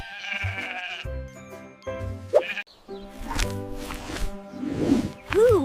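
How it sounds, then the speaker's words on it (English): Several sheep bleats follow one another in short, wavering calls, loud and close, with brief gaps between them and no talking over them. "It's a sheep."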